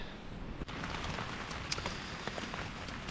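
Steady patter of rain drumming on a tent overhead, dense and continuous with occasional louder drops, fairly soft.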